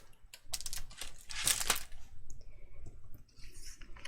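Hunkydory black gloss card is trimmed in a close, quiet run of crisp cutting and rustling scrapes, with a louder sharp slice in the middle and softer paper handling afterward.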